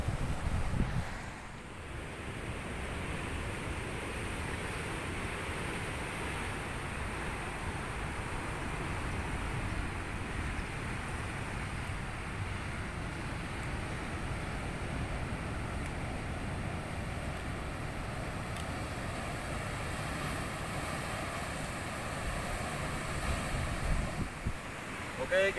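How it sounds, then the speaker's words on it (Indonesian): Ocean surf rolls steadily at Watu Lumbung beach in Gunung Kidul, Yogyakarta, a continuous wash of breaking waves mixed with gusty wind buffeting the microphone, with no pauses throughout. "inilah keadaan dari Pantai Watu Lumbung yang ada di ujung Gunung Kidul, Yogyakarta"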